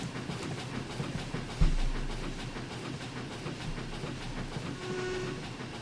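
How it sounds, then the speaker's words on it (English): Industrial steam tank locomotive No.71515 working hard at full regulator while shunting at Maerdy Colliery in a train simulator game, giving a loud, close, steady run of rapid chuffs with a sharp clank early on and a faint whistling tone near the end. "Chuffing so hard you could see it 3 valleys away."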